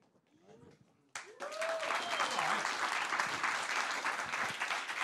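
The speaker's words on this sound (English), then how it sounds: "Well, don't clap." Lecture audience in Montréal bursts into sustained applause after a short quiet passage with a spoken voice, the clapping steady, dense and filling the room until the end.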